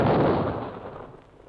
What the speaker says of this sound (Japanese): 降り積もった雪の中で火薬を爆破させ、人工的に雪崩を起こします。